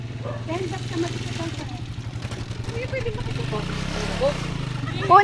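A motorcycle engine idles and rumbles close by in a steady low putter that swells as it moves past, while several people talk and call out over it.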